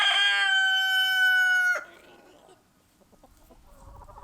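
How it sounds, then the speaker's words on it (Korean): A chicken at a Jeju pension gives a long, loud, bright crowing call that cuts off sharply, followed by a few faint clucks and quiet rustling. "닭은 왜 뒤로 가는 거야?"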